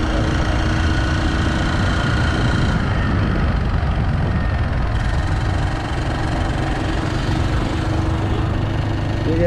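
A car engine runs loudly after breaking down at night on a road, a dense continuous rumbling drone with knocking texture, close and steady for the whole stretch.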